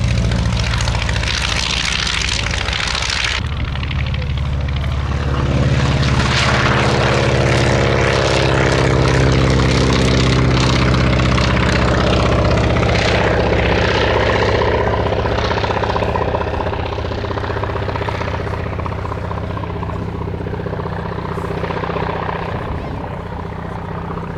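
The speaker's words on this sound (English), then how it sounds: "And then the very rare Naval Aircraft Factory N3N-3." A Naval Aircraft Factory N3N-3 biplane flying at an air show, a loud, steady propeller engine drone with shifting pitch as it passes, heard close and continuous with wind noise.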